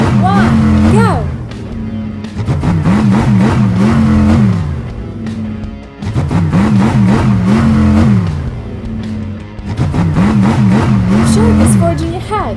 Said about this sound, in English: The monster trucks are ready to start.